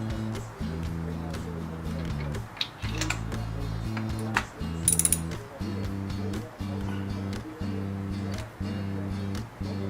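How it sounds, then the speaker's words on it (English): A ratchet on a long extension loosens spark plugs on a 2004 Mustang GT, clicking in repeated bursts of rapid pawl clatter with brief pauses between strokes, close and clear. "I put a real long extension on my ratchet"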